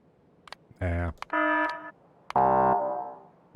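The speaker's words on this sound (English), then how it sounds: "That's the power alarm." Power alarm played back on a device: three loud electronic buzzer tones, each under a second long and separated by short gaps, mixed with a few faint clicks.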